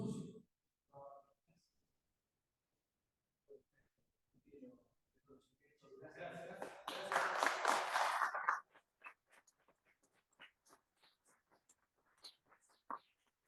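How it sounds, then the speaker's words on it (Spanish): At a naval centre lecture on energy in wartime, after a few quiet words, a short swell of audience clapping honours an engineer receiving a diploma. It then thins into scattered, isolated claps. "a quien brindamos un fuerte aplauso"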